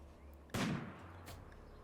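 A turret fires in the video game RimWorld: one loud gunshot with a sharp blast that fades, then a quieter second shot.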